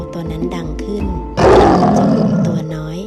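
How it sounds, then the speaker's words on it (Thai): A lion roars loudly in a told children's fable, a broad, rumbling roar bursting in partway through after quieter music and lasting over a second before fading. "เมื่อได้ยินเสียงคำรามของสิงโต"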